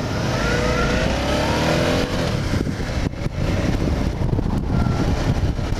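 A 2019 Suzuki V-Strom 650XT motorcycle being ridden on the road: a loud, continuous engine drone with rising and falling revs and steady wind and road noise, no talk.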